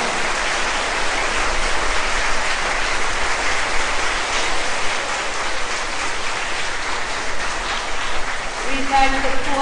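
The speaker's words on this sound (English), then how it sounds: "let's show them our appreciation by giving them a huge round of applause" Audience applause at a school morning assembly, a continuous rain-like patter of many hands clapping throughout, with a voice starting to speak near the end.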